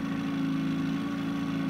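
Fishing boat engine in a fishing video game running at a steady idle, a constant mid-pitched droning hum with a strong tonal whine, continuous and close with no voices.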